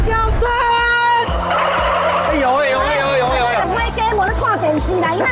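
A flock of turkeys gobbles loudly in warbling bursts at a TV variety show, heard over steady background music while people chatter and talk around them.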